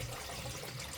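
A full sink of water drains through a newly installed P-trap under the cabinet, giving a steady, fairly faint rushing gurgle of high flow that continues evenly throughout.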